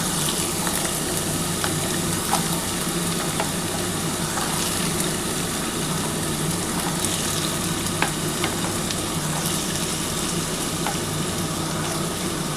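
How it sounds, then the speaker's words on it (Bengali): Sliced potatoes fry in hot oil in a pan, a steady, dense sizzle holding evenly throughout with small crackles and pops scattered across it, no voices. "প্রথমে বন্ধুরা আমি একটু আলুটা ভেজে নিচ্ছি"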